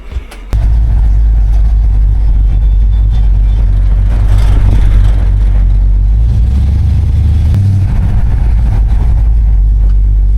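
A Pontiac with new brakes drives along a Norfolk road, a loud low engine drone and road rumble from inside the car, steady with a slight surge midway.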